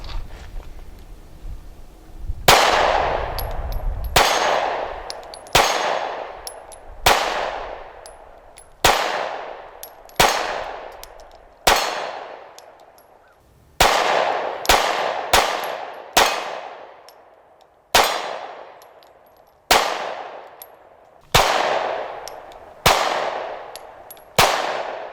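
A Smith & Wesson M&P Shield 9mm pistol fires about fifteen loud, sharp single shots at uneven intervals outdoors, each with a ringing decay, and a few quick pairs among them.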